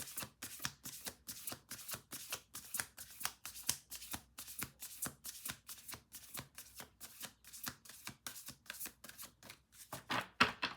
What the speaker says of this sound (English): Okay, two more shuffles.